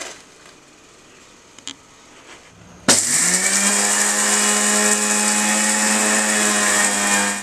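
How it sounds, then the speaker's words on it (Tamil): After a few soft clicks, a blender starts suddenly and grinds dried beetroot into fine powder with a loud, steady, close motor roar that runs for several seconds before cutting off. "இப்போ இதை ஃபைன் பவுடராக அரைச்சிக்கலாம்."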